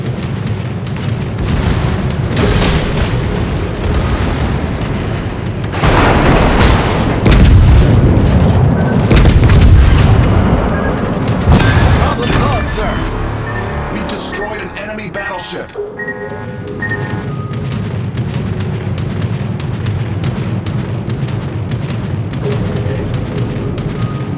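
Booming explosions and rattling gunfire from naval combat in World of Warships with the battleship Odin roll on as a dense, loud, continuous barrage, swelling in the middle and easing off, with voices mixed in.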